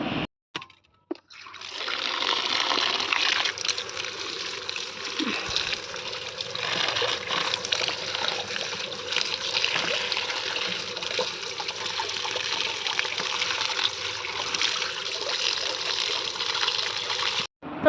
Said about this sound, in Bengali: আর আমি ততক্ষণে এটাকে পাতাগুলো ভালোভাবে ধুয়ে নেব।